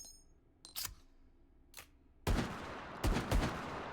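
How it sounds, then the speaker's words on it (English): A revolver-style gun in Hotdogs Horseshoes & Hand Grenades fires a burst of rapid shots, sharp loud cracks clustered close together after a few quieter mechanical clicks and handling sounds. "I was just firing it really fast"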